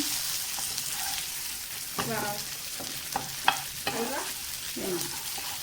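Pomfret fish fries in a pan with curry leaves, giving a steady broadband sizzle with soft crackles and occasional stirring scrapes throughout, close and moderately loud with no talking.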